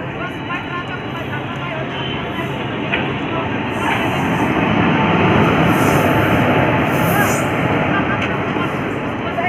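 The Rapti Ganga Express, running from Gorakhpur to Dehradun, pulls out of a station, a broad rumbling roll with faint clatter that grows steadily louder and closer, with people's voices in the background.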